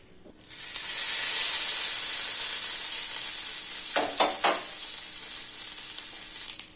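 Dried red chillies, curry leaves and asafoetida dropped into hot oil for a chutney tempering, bursting into a loud, steady sizzle that slowly eases, with a few spoon scrapes midway and no talking.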